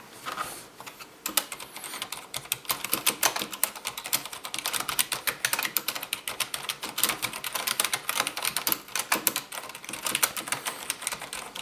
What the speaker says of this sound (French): On va maintenant faire le même essai avec cette version MX, donc Silent.